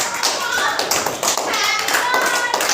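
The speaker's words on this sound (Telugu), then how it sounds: "క్లాప్స్ కొట్టాలి" Children clap hands during a lively playground game, the taps steady and close amid constant chatter and kids' voices.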